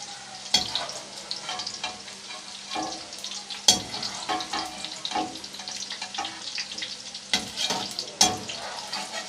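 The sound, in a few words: chicken frying in oil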